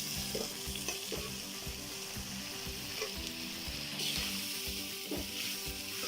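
Puffed rice being stirred through a sizzling pan while cooking uggani, a steady frying hiss with regular rhythmic spatula scrapes and taps throughout, close by with no speech.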